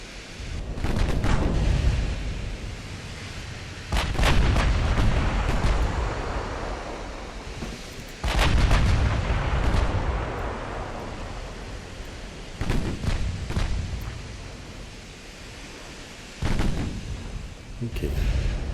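Heavy battleship gun salvos boom in the naval video game Ultimate Admiral: Dreadnoughts, with deep rumbling blasts every few seconds, each rolling out into a long roaring decay.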